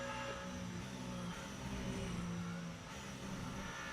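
A race car engine from the racing game Le Mans Ultimate drones past at steady high revs, a loud continuous roar that dips briefly and holds, with no talk.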